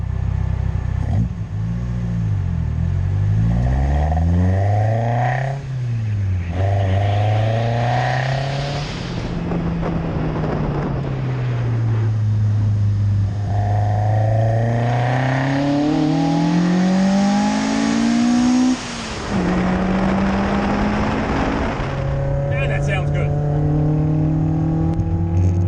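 Toyota AE86 with a naturally aspirated 4A-GE engine on individual throttles accelerating through several gears, rising engine notes broken by brief shift pauses, loud and close, with no talking.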